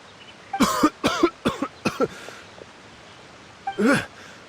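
A Genshin Impact character coughing after water went down the wrong pipe: a quick burst of five or six close, harsh coughs, a pause, then one more cough.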